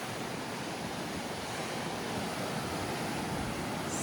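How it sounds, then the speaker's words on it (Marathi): Sea waves wash onto the shore at Aare-Ware beach on the Konkan coast, a steady, unbroken roar of surf with no voices. "बघा किती भारी वाटतंय समुद्र"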